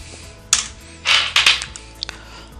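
Keystrokes on a computer keyboard during software work, a few separate clicks and short bursts of taps, close and fairly crisp, with no talking.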